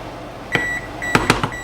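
A kitchen oven signals it has finished preheating with a short series of electronic beeps: one tone, a pause, then three more quick bright beeps, clear and close.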